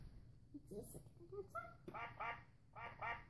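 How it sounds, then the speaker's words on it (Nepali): A duck quacks in a few quick bursts of nasal calls, loud and close, with a voice speaking before the quacks begin. "यो हाँस हो"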